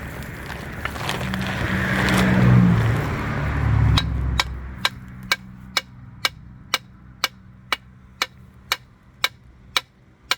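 A rubber mallet knocks in a steady rhythm, about a dozen sharp taps evenly spaced, following a stretch of louder rumbling noise.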